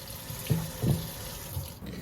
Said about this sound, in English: So splash some water on your stone.